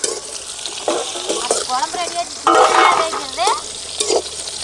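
Cut bitter gourd frying in hot sesame oil for a traditional bitter gourd curry, giving a steady close sizzle with stirring scrapes and brief surges of louder crackle, while a voice talks briefly over it.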